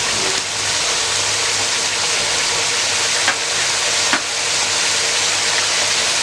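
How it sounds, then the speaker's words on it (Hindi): Beef frying with garlic paste for nihari crackles in a steady, loud broadband sizzle that holds throughout, with a couple of brief sharper pops or stirring clicks. "1 मिनट के लिए इसको फ्राई करना है हमने"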